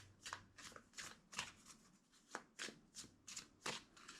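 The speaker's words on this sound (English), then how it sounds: "2 more shuffles." A deck of cards being riffle-shuffled several times in quick succession, each shuffle a crisp rapid flutter, close and fairly quiet.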